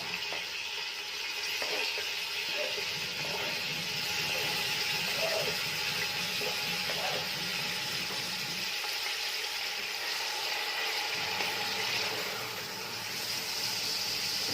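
Meat sizzling and frying in oil and fat in a pan for a tajine of olives, a steady crackling hiss throughout with some low bubbling, close and moderately loud, no talking.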